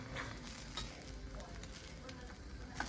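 Eggs being folded and gently scrambled in a hot pan for a Cantonese tomato and egg stir fry, a steady close sizzle with occasional soft scraping taps.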